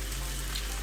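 Sauce hits a hot pan of pad thai noodles, giving a brief, dense, even sizzle like close rain on a surface, with no talking.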